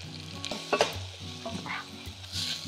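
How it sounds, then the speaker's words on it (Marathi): Masala with garlic paste, garam masala, coriander powder, red chilli and turmeric sizzling in oil as a spoon stirs it, close and steady with repeated scraping strokes. "छान हा मसाला परतून घेतलेला आहे"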